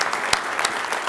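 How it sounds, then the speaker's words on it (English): Brief applause from the audience at a California Transportation Commission meeting, a short burst of clapping in a meeting room with a few sharper individual claps. "So I want to applaud you now"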